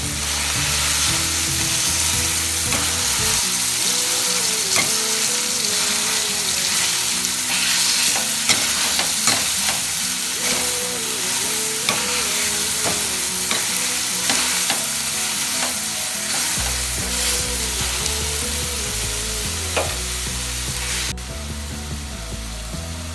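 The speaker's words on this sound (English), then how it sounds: "we have to mash this carrots with the help of a masher" Boiled carrots mashed with a masher in a pan of frying tomatoes for Mumbai-style pav bhaji, a continuous sizzle with repeated rhythmic thumping and scraping throughout, under background music.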